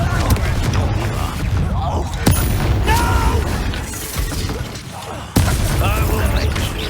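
Confringo explosion spell cast in Hogwarts Legacy, sudden booms around two and five seconds over a constant rumble of combat noise, with voices speaking through it.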